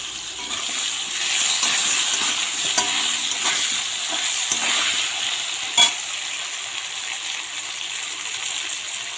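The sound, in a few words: potatoes frying in a pan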